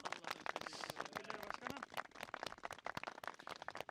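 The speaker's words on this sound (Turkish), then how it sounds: "onları alkışlayalım" A group claps outdoors on a youth association trip to Ilgaz, Çankırı: dense, irregular hand claps close by and fairly loud for nearly four seconds, with voices mixed in.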